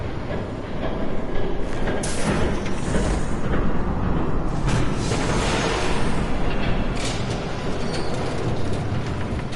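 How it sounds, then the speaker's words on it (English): A train passes in the Batman Telltale video game, a loud, continuous rumbling roar with rattling surges that builds and holds for the whole stretch, with no speech. "There's a train coming."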